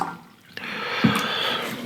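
Liquid drips and trickles as a Festool circular saw blade soaks in a cleaning solution diluted two parts water to one, with a short splash and a close, continuous watery hiss.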